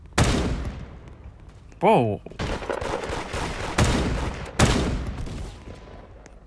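Gunfire in the Roblox game Da Hood comes as several sharp, loud bursts of shots spread through the stretch, with players talking over and between them.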